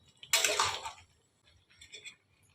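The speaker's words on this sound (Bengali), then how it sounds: "এবারে আমি খানিকটা জল এর মধ্যে দিয়ে দেবো।" Water is poured into a cooking pot during the making of a Bengali vegetarian mixed-vegetable chhyachra: one short, soft splash, then a faint trickle in near silence.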